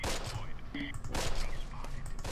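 Dense machine gun fire and scattered gunshots rattle through a battle in the video game Close Combat, a continuous close fusillade with bursts layered over one another.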